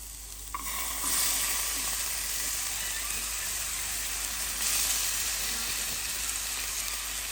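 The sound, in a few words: pinto beans sizzling in a frying pan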